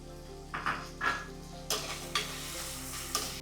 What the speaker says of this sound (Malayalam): ഉള്ളി മൂക്കുന്നവരെ ഒന്ന് ഇളക്കി കൊടുക്കാം